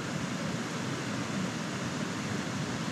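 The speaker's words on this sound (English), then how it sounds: "there's too much water flow here" Water flows over rocks in a stream, a steady, dense broadband rush with no breaks or other sounds for the full three seconds.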